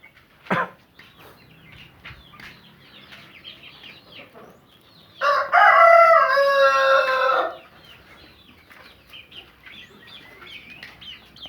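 Free-range village chickens cluck softly in the background, then a rooster crows loudly for about two seconds before the quiet clucking resumes.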